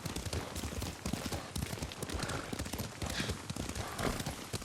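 Rapid rhythmic hoofbeats clatter steadily as a horse gallops in the video game Ghost of Tsushima, close and loud throughout, with no speech.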